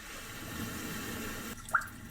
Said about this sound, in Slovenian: Tole so pa Calm Ocean Waves.